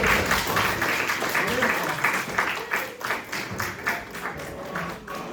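An audience claps for a first-prize winner at a school prize-giving ceremony, a steady wash of many hands sustained throughout, with voices and chatter mixed in underneath.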